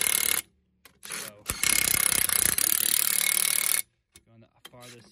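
A ratchet tightening the lug nuts on a car wheel during a flat tire change, giving short bursts then a sustained loud clicking, whirring run lasting over two seconds, close to the listener, with brief pauses between.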